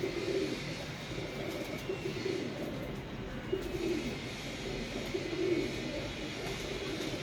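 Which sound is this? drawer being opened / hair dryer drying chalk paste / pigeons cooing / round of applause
pigeons cooing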